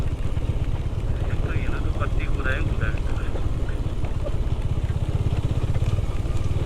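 KTM motorcycle ridden along a dry, landslide-damaged mountain trail, its engine droning steadily and loudly throughout with wind noise and a voice talking over it.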